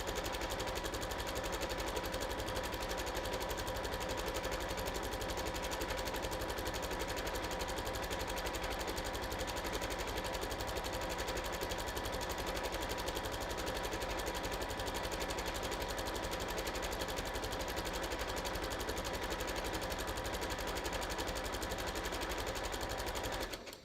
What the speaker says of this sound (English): I'm just going to stitch right down this line.